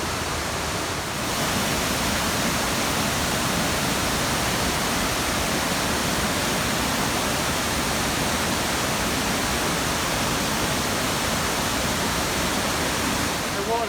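A waterfall in a rocky gorge at Coed-Y-Brenin, Wales: a loud, constant broadband rush of falling water, steady and unbroken throughout, close by with no other sounds standing out.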